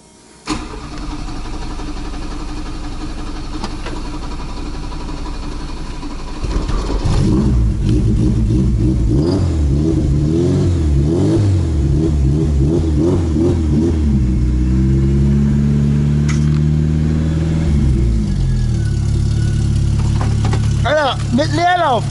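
An Opel Corsa A GSI racecar engine starts up for the first time after more than ten years standing, then runs roughly and revs up and down repeatedly, close and loud, with excited voices talking over it.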